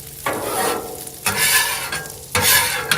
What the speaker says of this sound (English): got a little drippage over here. I'm going to scrape some of this off.